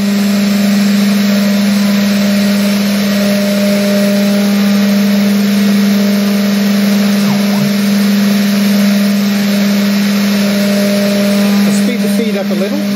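A homemade CNC router under SMC controller ramps into a cut, a loud, steady motor and spindle whine with a strong constant hum that runs unbroken throughout.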